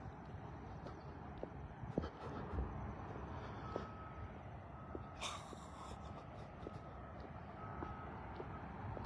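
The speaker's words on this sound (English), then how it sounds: "The truck stops beeping right at that moment." A truck's reversing alarm beeps steadily at a distance on a street, thin repeated tones over a constant low rumble of traffic and engine noise, with a few scattered knocks and clicks; no one talks.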